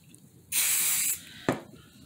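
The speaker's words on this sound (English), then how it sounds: "we're going to do some more spray here" A single sustained hiss from a spray can lasting over half a second, then a brief softer puff; close and clear with no talking.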